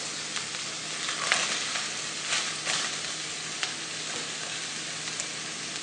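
Minced ginger and vegetables for egg rolls sizzle in a hot pan, giving a steady, fairly close crackling hiss with intermittent bursts and soft scrapes as the food is tossed. No voices are heard.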